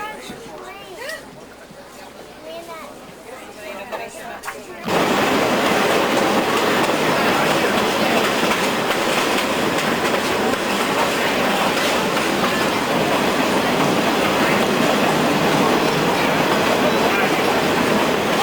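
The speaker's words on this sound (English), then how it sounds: "The train will be stopping here for a short while" A train rolls along the rails. A quieter stretch gives way to a loud, steady roar of wheels and rumbling carriages that fills the rest.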